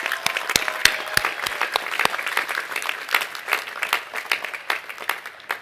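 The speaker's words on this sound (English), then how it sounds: "Let's give them an applause." A commencement ceremony crowd claps for faculty and staff, a loud, continuous wash of applause with several sharp, close individual claps standing out near the start.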